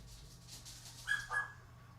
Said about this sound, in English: I'll apologise for the dogs barking